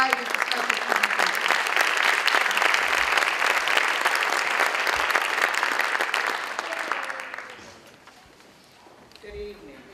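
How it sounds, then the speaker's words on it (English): Audience applause at a gala welcoming a presenter to the stage; many hands clap loudly and steadily for several seconds, then the sound thins and fades out toward the end, with faint stray noise after. "By a round of applause, please welcome Linda Sullen, who comes tonight with a special presentation."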